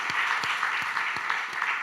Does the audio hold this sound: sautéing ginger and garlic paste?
no